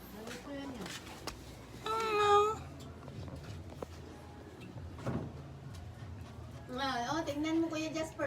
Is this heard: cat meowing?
yes